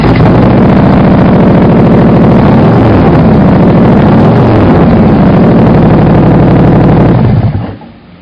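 Car engine revving loudly through aftermarket Kerry Foss mufflers, a steady deep exhaust drone held for about seven seconds before cutting off abruptly near the end.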